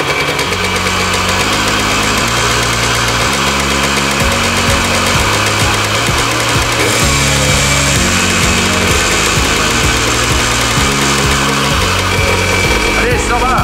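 A 125 cc Yamaha DTMX scrambler motorcycle engine runs steadily and loudly close by, with a continuous throbbing, knocking idle that holds through the whole stretch, and a faint voice buried under it.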